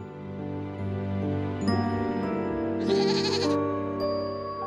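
Goats in a children's bedtime story bleat in a drawn-out, wavering cry over a soft musical background, with a bright jingling tone partway through, no talk.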